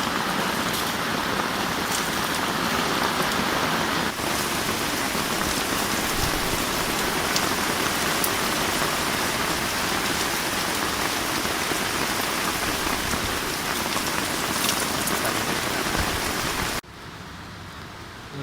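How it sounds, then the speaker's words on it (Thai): A loud, constant downpour with wind hisses and drums on a campsite tent without pause, then abruptly drops to a quieter level near the end, at Hat Chao Mai National Park. "ลมแล้วก็ฝนถล่มมานะครับ"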